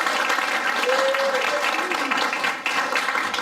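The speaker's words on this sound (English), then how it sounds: "give a big round of applause to Abby and Keith for having me stay at their home" Audience applause at a community gathering, a dense wash of many hands clapping steadily for a few seconds, with a voice briefly audible underneath.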